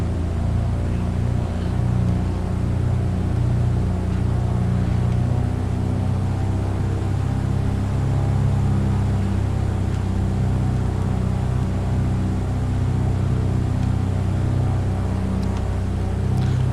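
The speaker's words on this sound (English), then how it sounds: "C152 coming in with my engines on." A Cessna C152 piston engine drones continuously inside the Prepar3D flight simulator, a steady low rumbling hum at even loudness, close and unbroken.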